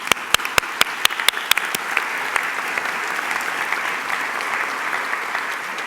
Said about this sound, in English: I think we should clap to that.